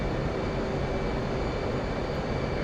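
Steady jet engine roar of an F/A-18C in the DCS flight simulator as the throttle is worked, a continuous broadband whoosh with a faint tonal whine, constant and close throughout.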